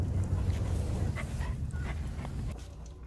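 A 13-year-old dog plays nearby, panting, snuffling and giving small whimpering yips over low rustling, with no clear talking.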